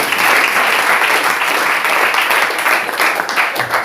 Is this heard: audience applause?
yes